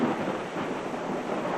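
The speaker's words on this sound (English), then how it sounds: "Lightning, thunder, and the relentless rain" A thunderstorm during the 1993 St. Louis, Missouri flood brings a low, steady rumble of thunder blended with rain, continuous and moderately loud with no voices.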